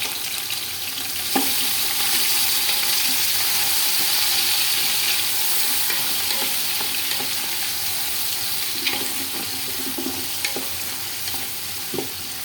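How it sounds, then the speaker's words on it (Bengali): Onions, cloves and cardamom fry in hot oil in a pan for pulao, a steady close sizzle broken by scraping stirs and occasional spatula clicks, with no voices. "এই তো আমি এখন এই সব উপকরণগুলো সুন্দর করে বাদামি কালার করব পেঁয়াজটা"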